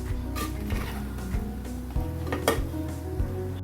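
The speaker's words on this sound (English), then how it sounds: "So I'm going to mix this and start serving the lunch." A spoon scrapes and clinks against a pot while vegetable biryani with rice is stirred, giving soft irregular metallic knocks and scrapes at close range with no talking.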